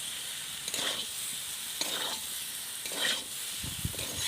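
Jackfruit and prawn curry with chilli powder frying in a pan, a steady sizzle broken by a few stirring scrapes and hissing swells, alone with no talk.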